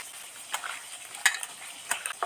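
Pointed gourd frying in a pan, a light sizzling hiss with scattered sharp clinks and scrapes of a spatula, heard close and moderately quiet, no one speaking.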